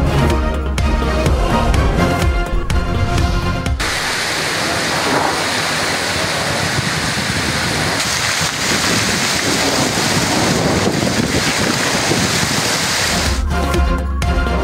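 Heavy stormy rain and gusting wind with hail in Peshawar and Quetta, a loud, continuous rushing roar that is broken at the start and end by a burst of louder, music-like sound.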